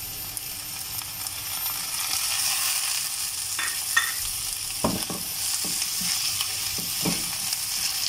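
Onions and tomatoes sizzle while frying in a pan for a Baingan ka Bharta, a soft continuous hiss broken by occasional utensil scrapes and stirring clinks, fairly quiet and heard without talk.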